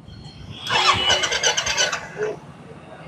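A 2019 Bullet ABS motorcycle engine cranks and catches over roughly a second of rising whir, then settles, heard close with a faint voice in the background.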